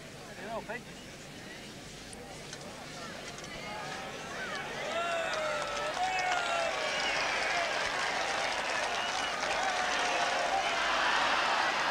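Crowd applauding at the 1988 World Bowls final in Auckland, New Zealand against England, a broad wash of clapping that swells and continues steadily under a commentator's voice.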